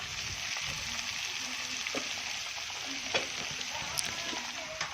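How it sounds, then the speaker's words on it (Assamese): Onion, fish and tomato frying together in a pan, giving a soft, fairly faint sizzle with occasional stirring knocks and scrapes, without talk. "এতিয়া জহা ভোলখিনি দি ধুনীয়াকৈ আমি ভাজি লওঁ। ইয়াৰ লগত বিলাহীও দি দিছোঁ, চব একেলগে ধুনীয়াকৈ আমি ভাজি ল'ম।"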